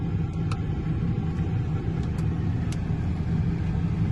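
A car in reverse gear creeps slowly backward during a driving-test parking manoeuvre. A steady low engine rumble runs throughout, with a few faint high ticks and no talk.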